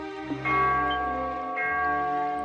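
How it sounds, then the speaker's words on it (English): Two struck bell tolls ring out in Trails in the Sky at Grancel Castle, each with a sustained, shimmering ring that lingers and overlaps the next strike, moderately loud and alone. "For whom the bell tolls"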